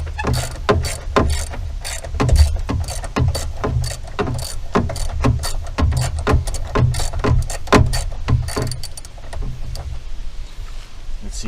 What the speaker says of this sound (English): now we'll loosen up the bolt on this bracket